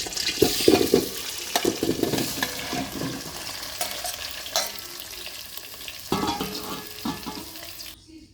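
One kilogram of olives cook in mustard oil for a pickle, with a close frying sizzle and the scrape and rustle of stirring in the pot, fading out at the end.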